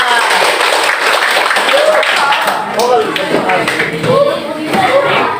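Students in a classroom clap together after an ice-breaking activity, a steady patter of hands with children's voices chattering over it.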